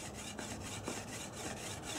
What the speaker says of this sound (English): And now we'll start sawing.